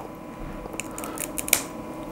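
Close scissors snip through millinery straw in a few quick, crisp cuts against a faint steady background hum.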